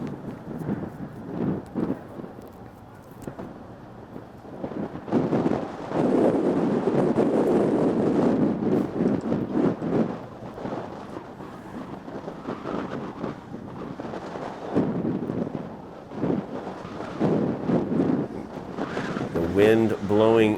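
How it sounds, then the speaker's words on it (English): Strong wind buffets the microphone at an outdoor high school boys' soccer game on a cold late-season day with snow flurries, producing a continuous roaring rumble that swells and eases throughout. "Wind blowing very hard."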